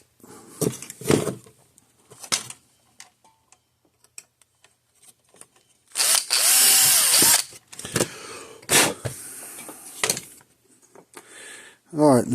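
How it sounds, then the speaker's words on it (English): Drill boring holes wider in a circuit board for an electric fence charger repair, a dense high-pitched whir lasting about a second, then a few short bursts among clicks and handling noises, close by. "I got to drill the holes out on the board a little bigger so they can fit in there"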